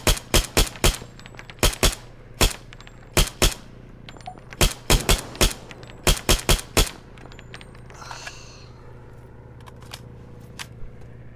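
An M4A1 Block II SOPMOD rifle with a reflex sight fires in Arma 3, sharp close shots coming in quick bursts of two to four. A long pause follows the bursts, then a few fainter distant cracks.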